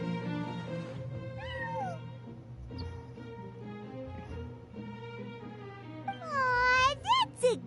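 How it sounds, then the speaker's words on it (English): A cat meows in the Genshin Impact video game, with several close, rising and falling meows near the end over steady game music, and earlier pitched cat calls blending into the background. "Aw, that's a good kitty, Sir Pouncelot."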